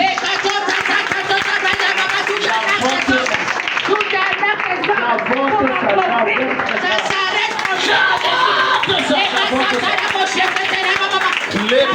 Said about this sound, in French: Acclamez plus.